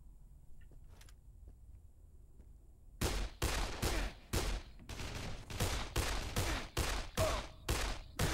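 Pistol fire in the zombie game Dead Island: after a quiet stretch with faint thumps, a rapid run of about a dozen loud, sharp shots rings out close by in an irregular rhythm.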